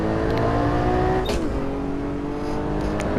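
Porsche Cayman GT4 engine held at full throttle on a race track, a loud, steady high-revving drone with a brief gear change midway, close and continuous.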